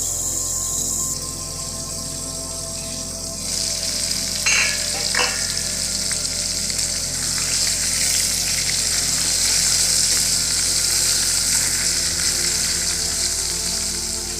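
Pointed gourd (potol) fries in a covered pan over medium heat, producing a constant close sizzle with a few brief stirring scrapes and no talk.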